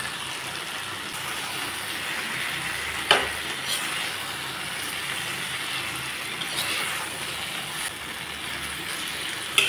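Whole fish fries in a hot pan with a continuous close sizzle, broken by a sharp clatter around the three-second mark and a few lighter knocks later.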